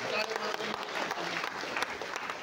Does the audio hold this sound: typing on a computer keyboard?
no